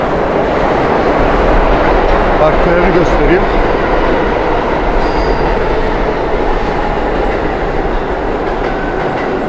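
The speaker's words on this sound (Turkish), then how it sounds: "Bu tren ekspres tren." A loud, steady rumble of a New York express subway train rushing past nearby, with rattling wheels and faint squeals; a voice briefly speaks under the roar.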